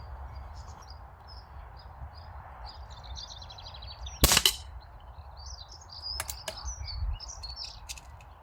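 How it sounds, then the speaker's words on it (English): An Air Arms air rifle fired at targets outdoors, one sharp crack followed by a couple of fainter snaps, with birds chirping in the background. "I'm going to put 5 shots in each of those targets that you can see up there"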